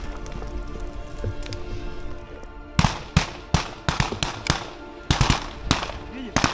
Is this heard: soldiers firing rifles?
yes